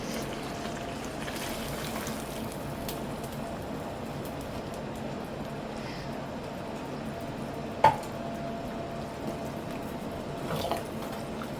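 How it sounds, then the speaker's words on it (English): Water boiling in a pot for cooking macaroni gives a faint, steady low bubbling hiss, with a single sharp click partway through and no talking. "I did boil water this side."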